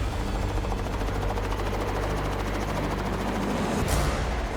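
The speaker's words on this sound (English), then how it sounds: "Now, the helicopter needs to come back for the co-pilot." A helicopter hovers close by at a remote Canadian lake, its rotors beating in a loud, continuous, rapid chop that stays dense and steady before a brief swell near the end.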